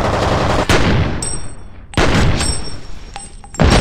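A grenade blast and gunfire in the shooter F.E.A.R., with loud, close percussive bursts and rattling shots that come in three heavy waves and echo and decay between them, with no talking.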